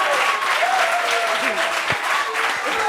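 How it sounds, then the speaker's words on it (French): A crowd applauds steadily, a dense wash of clapping hands at moderate volume with people talking over it. "Applaudissements, ouais, applaudissements"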